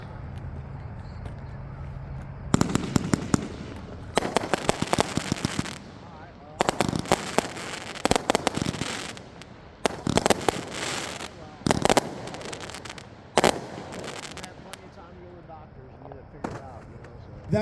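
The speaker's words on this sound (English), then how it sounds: "Next up, we have Seattle Burning," A 36-shot Seattle Burning firework cake fires at a fireworks show, a long run of loud sharp bursts in rapid irregular clusters, with short gaps between volleys.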